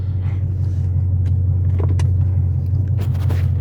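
A Dodge Charger reverses slowly, its engine idling with a steady, deep low rumble close by, joined by a few faint clicks and light rattles.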